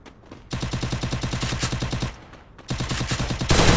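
Rapid automatic gunfire in a video game firefight, two long, loud bursts of evenly spaced shots with a short pause between them, followed by a sharper, denser burst at the end.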